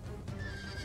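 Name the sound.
cavalry horse neighing in video game Total War Medieval Kingdoms 1212 AD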